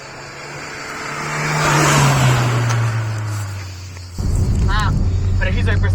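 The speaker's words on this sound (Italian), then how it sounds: "il soffio della turbina è assurdo, è veramente bellissimo" The turbocharged engine of an original Renault Super 5 GT Turbo hums and swells as it accelerates, its steady drone and turbo whoosh rising and then dropping off, with voices talking over it near the end.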